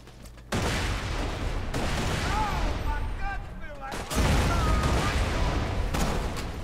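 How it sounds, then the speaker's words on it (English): Dense, loud rolling gunfire and blasts from a firefight in Borderlands 2, with grenade explosions among sustained shooting. A voice speaks over the battle noise. "I'm just gonna throw grenades up there."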